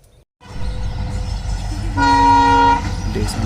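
A train engine passes near a wetland with a continuous low rumble, and a sustained horn-like tone swells loudly in the middle of the passage before the noise continues.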